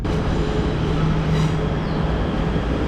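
A passenger train arriving from Kuala Lumpur on a Malaysian intercity line rumbles close by, a loud continuous rolling roar with a faint steady tone, no voices heard.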